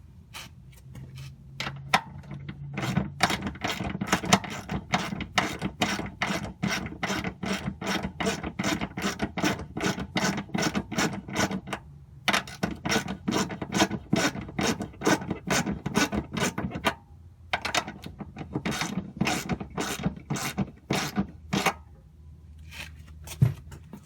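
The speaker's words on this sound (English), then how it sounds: "Let me go up there and turn that bolt and adjust them." A wrench turns the adjuster bolt on the emergency brake cables of a 2005 Ford Mustang, giving a long run of rapid, regular metallic ratchet clicks close by. The clicking pauses briefly twice, and no one speaks.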